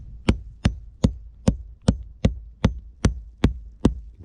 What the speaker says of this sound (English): Okay, we'll do our tapping here.